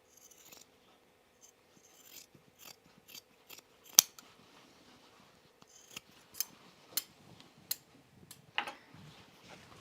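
Scissors snipping fabric while trimming a cropped jacket: scattered sharp clicks and cuts, one louder snip early and a run of crisp snips later, close but quiet, with faint rustling between and no talk.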